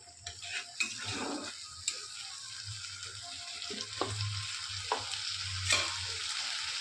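Tomato paste frying in a pan for a prawn curry, a soft continuous sizzle broken by scattered clicks and taps of a spoon stirring against the pan.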